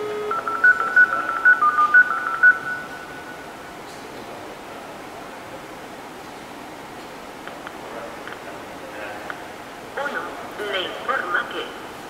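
A telephone number is punched in with a quick run of about a dozen touch-tone DTMF beeps, clear and close, followed by line hiss and faint clicks.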